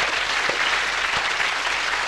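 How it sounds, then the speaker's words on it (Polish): An audience at a church lecture on science and religion applauds, a dense, even wash of many clapping hands that continues steadily, with no voices on top. "Let's give a big hand to God."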